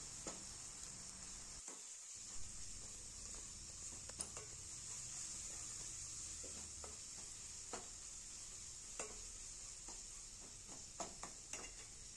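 Ginger and garlic sauté in a pan for a Tamil kurma, a faint steady sizzle under scattered stirring scrapes and light clinks of a spoon against the pan.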